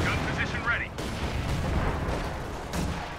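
Mortar blasts and gunfire crack and boom through a war video game battle, with a sharp burst at the start and more scattered shots and impacts afterward. A commentator talks over the action.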